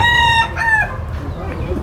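A rooster on a farm crows once, close and loud; the drawn-out call rises and then trails off within about two seconds.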